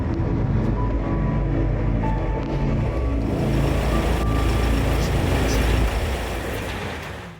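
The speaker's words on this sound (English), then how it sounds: "and then go into reverse." A CMAR R 2500 vehicle in reverse, a loud steady engine drone with intermittent reversing beeps sounding over it throughout.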